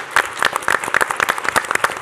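A school board meeting audience applauds a presentation, a short burst of brisk, uneven clapping from a modest crowd, close and clear.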